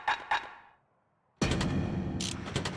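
Cannon fire in the video game Bastion: a sudden heavy blast with a sustained booming rumble and sharp crackling bursts on top, preceded by two short clanking hits and a brief quiet gap.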